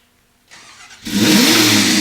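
A car engine cranks briefly, catches and starts, then revs up loudly and holds a strong, steady roar.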